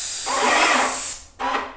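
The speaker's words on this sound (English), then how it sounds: "Now let's do our first test spray." Paint spray gun firing a test spray: a loud, continuous hissing blast of air and atomized paint lasting about a second, a brief drop, then a second short burst, close and alone.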